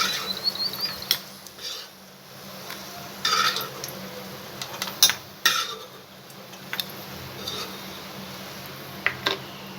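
Golden-fried maida sweet being moved into a vessel, with scattered metallic clinks and scrapes of utensils against cookware at close range, separated by quiet gaps.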